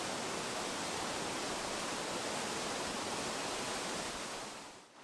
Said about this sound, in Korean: 우렁찬 폭포가 맞이해줍니다.